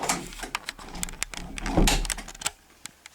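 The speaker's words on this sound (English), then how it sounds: "That's me closing the door." Door being closed in a cottage lounge, a cluster of clicks and knocks building to a dull thump, followed by a few faint taps in a quiet room.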